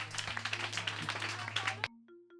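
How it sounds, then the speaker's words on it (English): An audience claps in a dense, crackling round of applause over a steady low hum, then it cuts off abruptly partway through, leaving faint scattered sounds. "So with a round of applause"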